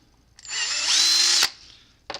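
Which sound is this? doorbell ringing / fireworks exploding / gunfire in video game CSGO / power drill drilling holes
power drill drilling holes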